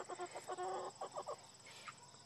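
Backyard chickens cluck softly in a quick, chattering run of short calls while pecking at pumpkin, heard close but fairly quiet against a steady high-pitched background hiss, then trailing off into a few fainter notes.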